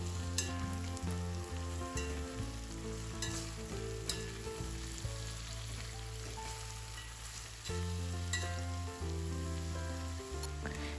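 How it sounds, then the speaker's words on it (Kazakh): Carrots sizzle and crackle steadily in a hot pan, a continuous loud frying hiss with occasional stirring and no talk. "сәбізімізді алып, бұны да жақсылап 7-10 минут аралығында сәбізіміз жұмсарғанша қуырып аламыз"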